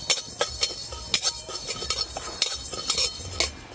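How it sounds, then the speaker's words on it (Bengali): Panch phoron and cumin seeds dry-roast in a pan as a metal spatula stirs and scrapes in quick, rhythmic clinks, nearby and fairly loud, with no talking. "শুকনো খোলায় মশলাগুলো ভালো করে ভেজে নেব"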